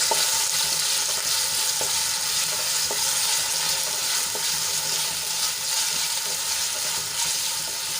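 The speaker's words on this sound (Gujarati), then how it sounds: "એ એડ કરી દઈશું અને સરસ રીતે તેલમાં સાંતળી લઈશું" Large potato pieces sauté in hot oil for a fasting-day sweet-and-sour moraiya khichdi, giving a steady, close sizzle with occasional stirring clicks throughout and no talking.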